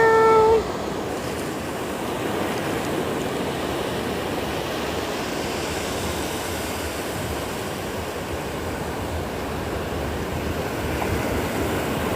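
Ocean waves wash steadily onto a beach on a sunny day, a continuous close surf hiss that follows a brief tonal chirp at the start, with no talking.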